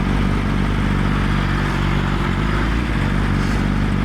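An S1K motorcycle rides through New York City streets with a steady, close engine drone at a low pitch, mixed with rushing wind noise and no clear revving.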